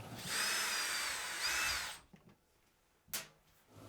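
A power drill whirs in two bursts, unscrewing Phillips fasteners from a Samsung washer lid, followed by quieter clicks and a short tap as parts are handled.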